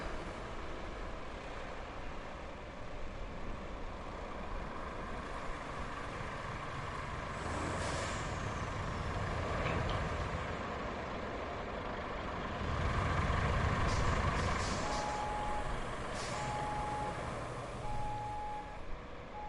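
Heavy dump trucks in the video game Clean Up Crew rumble steadily along a road, with the engine swelling louder midway and a series of evenly spaced reversing beeps sounding near the end.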